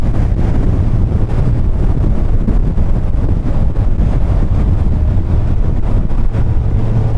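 Strong wind buffeting the microphone on a Suzuki Hayabusa motorcycle, a loud, continuous low roar with gusty pulses throughout, as if riding at speed.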